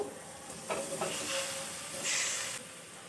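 Fried potatoes added to a sizzling pan of spiced masala, a hissing, steaming sizzle that swells in bursts as they go in and are stirred, close and fairly loud with no talking.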